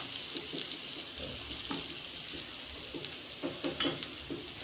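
Hot oil splatters and sizzles steadily while tempering Gujarati patra made from colocasia leaves, a close, continuous crackling hiss with small pops, and no talking.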